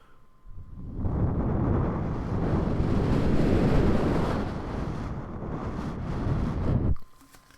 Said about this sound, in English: It's a windy night here.